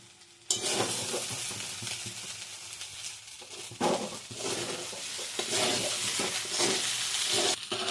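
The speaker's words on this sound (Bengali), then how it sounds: "শেজওয়ান সস দিয়ে আবার নাড়াচাড়া করে নিলাম।" Ball rice being stirred with Schezwan sauce in a hot pan, with a steady sizzle and repeated scraping strokes of a spatula, close and loud throughout, and no talking.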